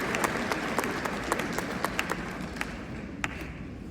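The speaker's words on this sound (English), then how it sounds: "Let's give another round of applause." An audience at a university gathering at NCCU applauds steadily, a dense wash of clapping with a few sharper, louder claps standing out, continuing throughout and easing slightly toward the end.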